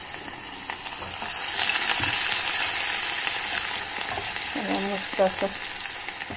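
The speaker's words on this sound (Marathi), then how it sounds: "थोडासा फोडणीला कांदा टाकू आपण." Half an onion sizzles and crackles steadily in hot oil as a tempering for a chicken curry, a continuous close frying hiss with a brief spoken remark over it.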